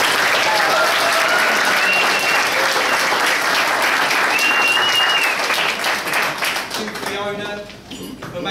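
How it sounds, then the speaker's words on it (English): A wedding reception crowd gives a round of applause during the speeches, loud dense clapping with a few whoops and voices mixed in, tapering off toward the end. "At the back there, round of applause please."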